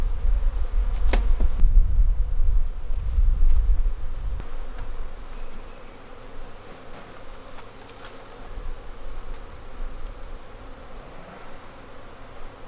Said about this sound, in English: there will be a bunch of bees up here in one of the top boxes.